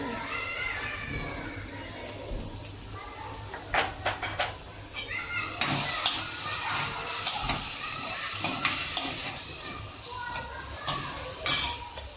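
Tomato and onion frying in a pan with ginger, stirred now and then, a soft sizzle under light spoon scrapes and clinks, with a few louder bursts toward the end.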